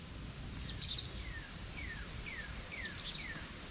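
Birds chirp and trill outdoors beside a 2008 Arctic Fox 805 camper, high bright calls repeating in quick descending notes over a steady rushing background, fairly loud and continuous.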